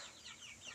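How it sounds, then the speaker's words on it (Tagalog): Chickens cluck faintly on a small farm in the Philippines, soft scattered calls over a quiet outdoor background with no talking. "Ayan, manok."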